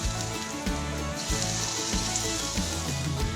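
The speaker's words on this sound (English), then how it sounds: "You want that little sizzle, and you want to go about halfway up." Steady, dense sizzling of Yorkshire pudding batter dropped into hot fat, a continuous crackly hiss with low bubbling underneath, close and fairly loud, no voices.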